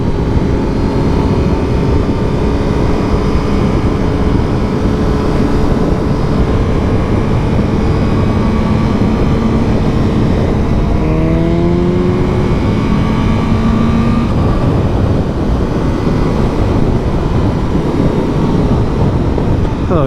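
A brand-new 2023 Honda CBR1000RR-R Fireblade SP sportbike ridden on an open road, giving a loud, steady roar of engine and rushing wind throughout, with a brief rising rev partway through.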